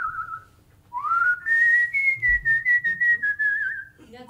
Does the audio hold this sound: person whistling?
yes